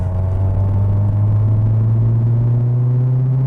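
Cabriolet with a 1.8 litre engine pulling in second gear, a loud, steady low engine drone with a constant hum close by for a few seconds, no talk.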